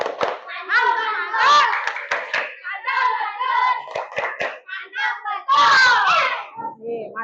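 A classroom of children perform the 'tepuk mantul' clap chant, rhythmic hand claps mixed with loud children's voices chanting together, close and lively throughout, with a teacher's voice leading.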